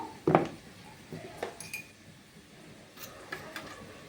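Ground coriander and cumin stirred in a cooking pan, a few brief metallic clinks and scrapes of a spoon against the pan, close and fairly quiet, with a soft background hiss.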